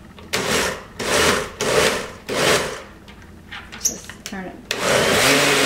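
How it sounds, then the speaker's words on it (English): A blender works on strawberries and coconut milk in short repeated pulses of whirring, loud and close, followed by clattering and a brief spoken phrase before a final longer run. "then blend it until it's smooth"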